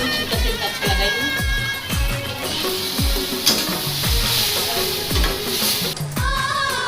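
Tomato paste goes into a hot frying pan for a paneer curry and sizzles loudly and steadily, with a spoon scraping and knocking against the pan at a regular, roughly once-a-second rhythm, close up and without talk.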